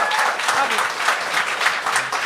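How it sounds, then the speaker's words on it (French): Lively crowd applause at a televised Gong Show comedy competition: a dense, even wash of many hands clapping, close and steady for a couple of seconds with no voices on top. "On peut l'applaudir."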